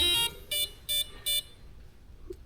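An RC crawler's outrunner ESC chirps as it powers on: a short opening tone, then three evenly spaced, clear electronic beeps, close and fairly quiet, followed by near silence.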